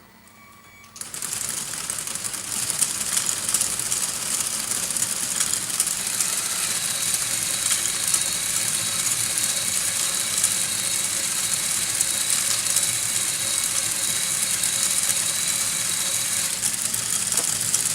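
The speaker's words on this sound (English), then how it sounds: "So we have three separate motors going right now." Three LEGO motors drive a swing carousel and its gears, a steady close whirring and buzzing drone with fine mechanical rattle that starts abruptly and runs unbroken, with no talk over it.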